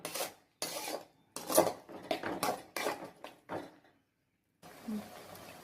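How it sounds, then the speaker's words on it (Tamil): White sauce pasta with cheese is stirred in a pan, a spoon rasping and scraping against the metal in short bursts separated by brief pauses. "சீஸ் நல்லா மெல்ட் ஆகிற வரைக்கும் நல்லா கிளறி விட்டுக்கலாம்."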